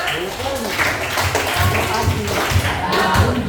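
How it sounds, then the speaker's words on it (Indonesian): Students in a classroom clap together in rhythmic bursts of hands, fairly close and loud, with voices mixed in among the claps. "Kasih tepuk tangan."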